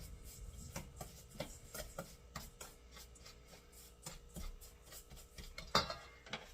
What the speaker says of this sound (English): I'm just kind of stirring it and breaking that brown sugar up with my spoon